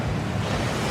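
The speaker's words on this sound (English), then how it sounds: "That waterfall washes away all enchantments." A waterfall rushing in the Hogwarts Legacy video game, a loud, steady broadband roar with a deep rumble underneath, continuous and unbroken.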